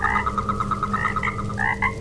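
A frog croaks loudly and close in a fast, steady pulsing trill, with a few higher, throatier calls near the end over a low background hum.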